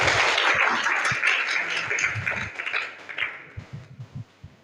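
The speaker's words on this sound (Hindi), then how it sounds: "तालियां हो जाए इनके लिए।" An audience at an inter college in Sultanpur applauds third-prize winners with a burst of many hands clapping that is strong at first and then thins into scattered claps, with low thuds in the room.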